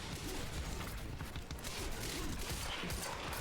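Gunfire from headshots in the video game Quantum Break, a continuous close barrage of shots and booming impacts running throughout at steady loudness.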